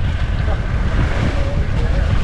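A service boat's engine out at sea in the West Philippine Sea drones as a steady low rumble, blended with constant wind buffeting and wave wash throughout.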